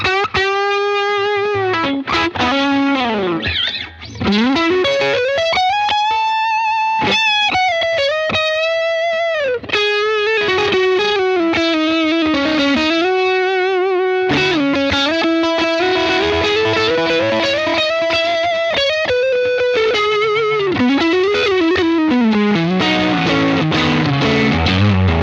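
An electric guitar runs through a JHS Fumble distortion pedal with the output turned up: loud, thick, saturated tones with sliding bends and sustained notes that play continuously for about twenty-five seconds.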